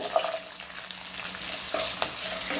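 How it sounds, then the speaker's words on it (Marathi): Potatoes and carrots sautéing in a pan for khichdi with crushed green chillies, giving a steady close sizzle with a few soft stirring scrapes, no voices. "आणि आपल्याला 2 मिनिटं छान परतून घ्यायचं"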